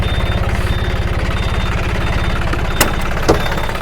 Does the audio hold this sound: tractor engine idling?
yes